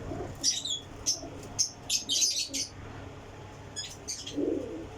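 Female pigeons at a loft, giving short bursts of chirps and a few soft coos close by, broken by brief pauses, with faint rustling and no talk.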